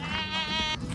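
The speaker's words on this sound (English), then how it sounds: "What's the sound of a sheep?" A sheep gives a single sustained, nasal bleat, close and clear, lasting about a second with no talk over it.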